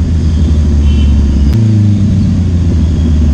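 A Yamaha R15 motorcycle engine runs loud and close with a deep steady rumble and a brief shift in tone partway through, with no talking.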